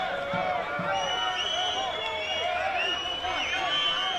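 Olympic FC supporters cheer and chant as a steady, dense crowd roar at the NPL Grand Final football match against the Gold Coast Knights, sustained throughout with no clear gaps.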